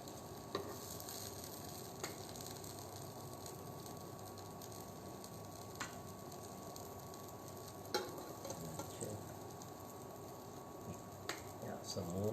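Butter-toasted bread sizzles steadily in a hot pan, a constant close crackle with a few soft clicks and clatters breaking through.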